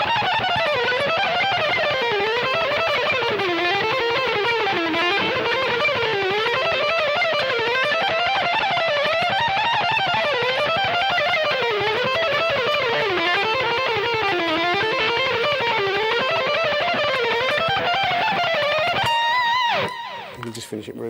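Distorted electric guitar running a fast alternate-picked lick up and down across string pairs, a continuous stream of sustained, saturated notes that rises and falls in waves, loud and close, ending with a brief ringing stop.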